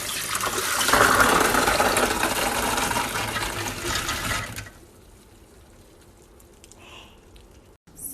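Running tap water pours over soaked kidney beans in a strainer, a close, steady splashing rush for about four and a half seconds before the flow stops, leaving faint handling noises.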